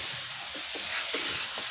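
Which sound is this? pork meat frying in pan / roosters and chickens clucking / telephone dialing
pork meat frying in pan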